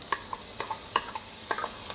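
Onions frying in a saucepan with oil and melted butter give a steady, close sizzle, broken by scattered clicks and taps of stirring against the pan, with no voices.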